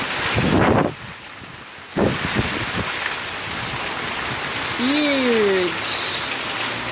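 Heavy storm rain pours down in Queensland, a dense, loud hiss with a couple of brief gusty swells and a short stretch of rising and falling voiced sound.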